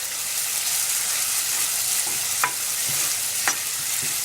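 Grated carrots sauté for a homemade pasta sauce, giving a steady, close frying sizzle with broadband hiss throughout and a couple of brief stirring scrapes near the end, no voices.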